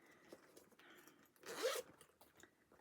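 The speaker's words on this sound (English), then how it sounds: "If it's going to have a zipper, it really should zip up the whole thing." A zipper on a cheap Temu haul item is pulled in one short, close zip, set among quiet handling rustles.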